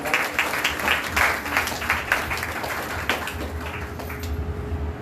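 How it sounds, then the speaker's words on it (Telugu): A church congregation claps to welcome the pastor at a worship service, a dense, continuous round of applause from many hands at fairly close range, with a faint steady hum underneath. "మనందరికీ చప్పట్లు పెట్టి పాస్టర్ గారిని ఆహ్వానించుదాం"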